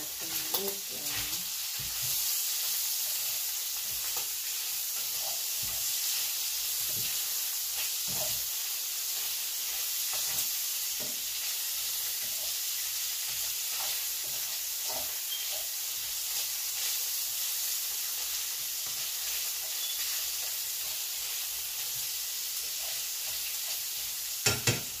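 Breakfast frying in grease on a stove, a dense continuous sizzle that stays steady and close for the whole stretch, with occasional small clicks and utensil taps.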